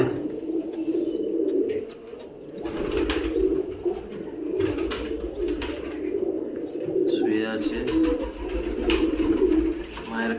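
Paired pet pigeons in a home loft with chicks in the nest coo repeatedly in low rolling calls, close by, with a few sharper chirps and brief wing flaps, while someone talks over them.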